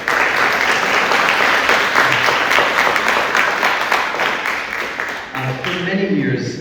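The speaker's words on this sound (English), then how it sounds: "so let's give them a round of applause." An audience at a school showcase event gives a loud round of applause, dense clapping from many hands that thins and fades near the end as a voice starts to speak.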